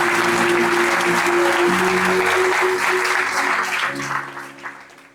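An audience applauds steadily at a motivational business event, dense clapping that holds strong before gradually fading out, with faint voices and a little background tone beneath.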